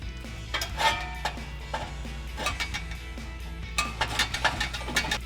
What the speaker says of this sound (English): Now we'll go ahead and slide our tailpipe over our two over the axle pipes